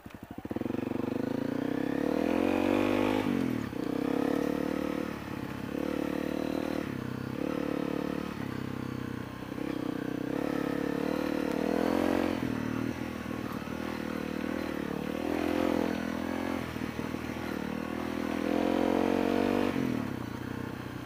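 A 2017 Honda CRF250L dual-sport motorcycle rides off road, its single-cylinder engine droning loud and close for the whole stretch, with the revs repeatedly rising and falling as the throttle opens and closes, and no talking.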